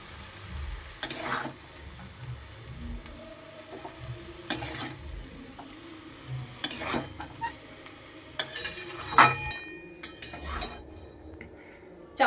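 Chowmein frying in a pan and being stirred, a continuous sizzle broken by repeated scrapes and clinks of the spatula, close by, with no talking.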